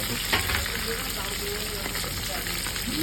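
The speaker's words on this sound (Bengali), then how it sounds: "মাছের কিন্তু এক পাশ ভাজা হয়ে গেছে, আর এবার কিন্তু উল্টে পাল্টে দিচ্ছে" Rohu fish frying in hot oil as it is turned in the pan, a dense steady sizzle with a brief knock near the start, heard close and loud.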